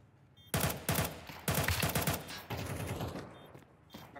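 Automatic gunfire from the online shooter Counter-Strike on the map Nuke, heard in long rapid bursts of loud, close shots separated by short pauses.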